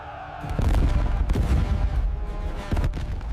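Massive siege cannons firing in a Mughal battle scene, a dense roar of booming blasts and rumbling gunfire that stays loud and continuous throughout.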